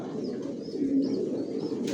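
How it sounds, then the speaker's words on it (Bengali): Pigeons of a racing breed coo softly in a loft, a low murmuring call rising briefly near the middle over a steady, faint background hum. "এখানে নিউ আডাল কবুতর আছে"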